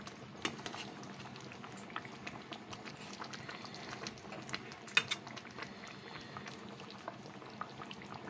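Water with chicken pieces coming to a boil in a cooking pot, a soft, steady bubbling with small pops nearby and no talk.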